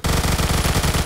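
Rapid automatic gunfire from a Vector in the video game Phantom Forces, a tight, loud burst of evenly spaced shots filling about a second with no talking.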